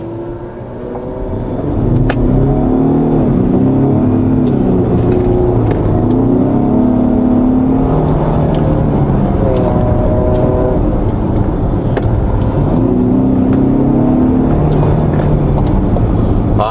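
A Lincoln Aviator plug-in hybrid pulls hard at full throttle, engine note climbing steadily in pitch through the gears, loud and continuous as heard from inside the cabin.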